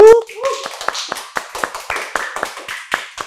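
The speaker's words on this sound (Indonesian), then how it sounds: "Agnes Yulia Fitriani, teman-teman, beri tepuk tangan semuanya mungkin" A few people clap in a podcast setting, producing sparse, separate sharp claps spread unevenly across the moment, with a short voice at the start.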